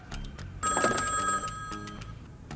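A telephone bell rings in a short, bright, trilling burst that swells and then fades, heard alone and fairly close.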